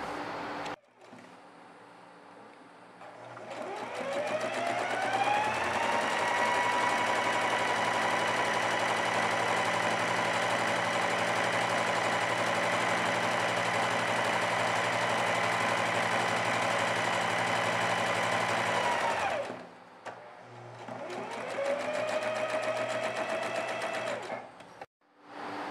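Sewing machine running a long gathering stitch along a fabric strip for ruffles on a red star-print outfit, a close steady whirring hum that spins up, holds for about fifteen seconds, stops, then briefly runs again.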